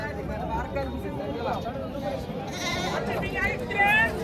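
Goats and kids bleat at a crowded Parbhani goat market, with several wavering cries rising over a constant hum of chatter and people talking nearby.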